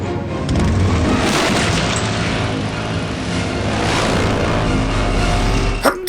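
A rocket launcher explosion in the Metal Gear Solid 3 video game: a loud, sustained blast and rumble lasting several seconds, with a sharp extra crack near the end.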